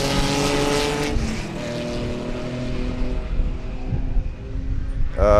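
Race car engines roar past at Sebring as a BMW overtakes a Porsche 911, a loud, tonal engine note sweeping down in pitch as one car passes, followed by a sustained drone and another engine surging close at the end.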